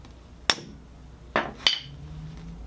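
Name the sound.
hammer tapping a wrench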